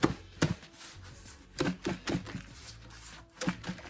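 Flour shaken inside a sealed bag while cooking a chuck pot roast, a series of close, soft thumps and rustling bursts in irregular rhythm with quiet gaps between.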